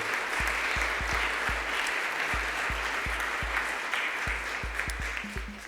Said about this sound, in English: please just give a recognition, a round of applause for everybody